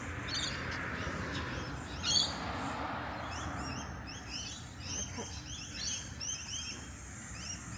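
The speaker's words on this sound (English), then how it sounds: "Sorry, that was the birds." Birds chirp faintly and repeatedly in quick, light calls over soft outdoor ambience on a walk past shops along Dundas, with no talking.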